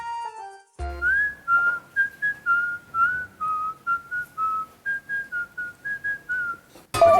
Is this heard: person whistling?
yes